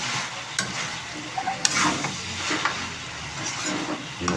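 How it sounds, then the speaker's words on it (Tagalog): Spicy pork adobo sizzling in its own rendered fat, a soft, steady crackle broken by sharp pops and faint scraping as the pan is stirred. "Nagmamantika sa sariling mantika. Nagmamantika sa sariling taba."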